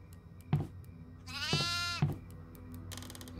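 Goat bleating in the horror video game Devour, a few sharp onsets followed by one long wavering bleat, fairly quiet against a low ambient hum and a faint rattle at the end.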